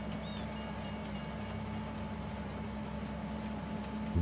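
A steady low rumble with a faint rhythmic clatter of a freight train rolling past in Farming Simulator 25, even and continuous at moderate distance with no talk.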